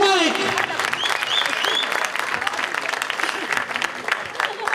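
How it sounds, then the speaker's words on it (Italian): Applause from a festival audience, a dense burst of clapping that starts loud with a cheer and a voice over the top, then continues steadily and thins slightly toward the end. "Un grande applauso al nostro Mastro Mike."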